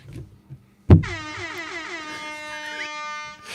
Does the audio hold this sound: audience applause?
no